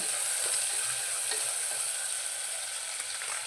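Onions fry in oil in a pan for village-style huli uppittu, giving a steady, close hiss of sizzling with no other sounds over it.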